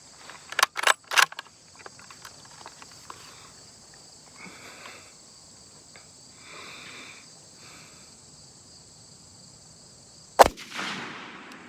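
A Springfield 1903A1 rifle fired on an outdoor range lets out a single sharp, loud crack near the end, followed by a brief decaying echo. Quieter clicks and handling noises come earlier over a constant insect buzz.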